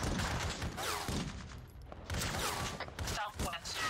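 Bursts of distant rifle fire crackle through a military shooter game's firefight, several volleys spread across the moment with a steady noisy backdrop, while voices talk over the action.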